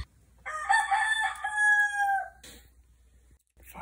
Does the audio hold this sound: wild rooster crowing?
yes